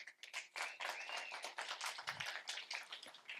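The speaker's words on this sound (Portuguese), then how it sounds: "Palmas para o time B" Scattered clapping for a team at a multidisciplinary clinical oncology session, light and uneven, with individual hand claps audible throughout.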